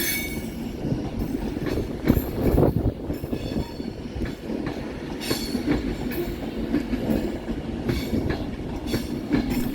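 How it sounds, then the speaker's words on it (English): Northern train arriving from Crewe at Manchester Piccadilly, with rumbling wheels, rhythmic clicks over rail joints and brief squeals, heard close and continuous without speech. "arriving to terminate with a Northern service off of Crewe"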